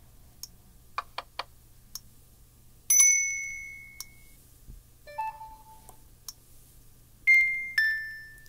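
A Samsung Gear S3 Frontier smartwatch plays a run of short notification chimes and ticks, several different bright tones one after another, ending with a two-note ding-dong chime repeated twice, close and clear over quiet.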